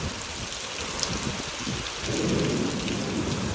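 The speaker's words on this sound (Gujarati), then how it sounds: "એવો ને એવો જ વરસાદ અને એવો ને એવો જ પવન છે" Heavy rain pours steadily with gusting wind during an unseasonal summer storm, the downpour swelling louder partway through; thunder rumbles low underneath, with no voices.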